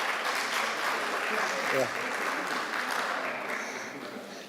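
A conference audience applauds the speakers with a steady wash of clapping that holds for several seconds and then slowly tapers off, while a voice briefly speaks partway through.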